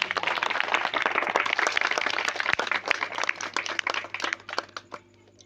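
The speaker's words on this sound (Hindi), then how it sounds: "एक बार मैं चाहूँगा आप सभी युवाओं के लिए एक जोरदार तालियां हो जाए।" A crowd at a village Ambedkar Jayanti celebration in Bhaisa Rani, Bansgaon, claps for the youths, strong and fairly close at first, then thinning into scattered claps with a low electrical hum underneath.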